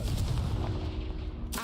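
A Confringo blast spell cast in the Hogwarts Legacy video game, a deep rumbling explosive boom with a rolling low-end tail and a brief crackle at the end.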